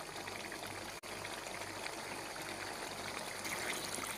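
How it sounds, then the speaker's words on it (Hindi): Water is poured into a pot of potatoes and fried spices while cooking aloo gosht, giving a steady, close, continuous splashing stream that runs for about four seconds with no talking. "अब मैं इसके अंदर पानी डालूँगा"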